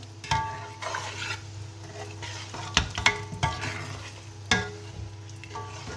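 Dry pepper and crayfish being stirred in a pot for ogbono soup give a low sizzle under intermittent scraping and clinking of a spoon against the pot, several sharp knocks close by, no voices.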